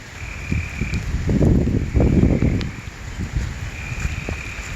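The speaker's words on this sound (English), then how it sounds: "The frogs, man, are going nuts." Frogs call in heavy flooding rain in Vestavia Hills, Alabama, with short croaks repeating over a rushing, wind-buffeted outdoor background; a faint steady tone runs underneath.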